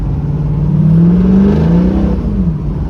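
An LS-swapped Toyota Prius with a failing 4L60 automatic transmission stuck in neutral in fourth gear, its engine revving loudly and freely with a rising then falling roar, close and alone.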